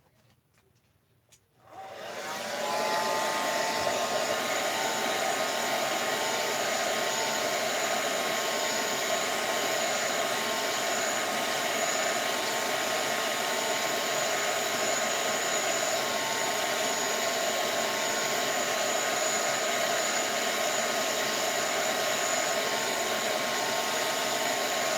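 A dryer blows steadily to dry paint on a mixed media collage, switching on after a quiet moment and then holding a loud, even whirring hiss, close by with no speech.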